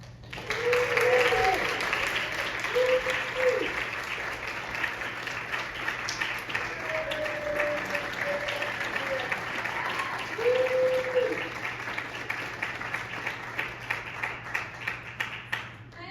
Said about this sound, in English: let's end with giving our actors a bow and giving them a round of applause